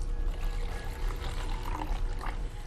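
Torch oil poured from a container into two cups, a soft continuous liquid pouring and trickling sound over a low background rumble, steady across the whole short stretch with no talking.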